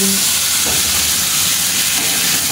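Potatoes fry steadily in a pan, a loud, continuous broadband hiss and sizzle that holds without a break for the whole stretch, with no voices.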